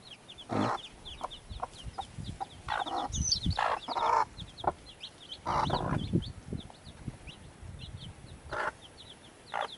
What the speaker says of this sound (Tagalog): Ang ganda, guys, ng mga sisiw.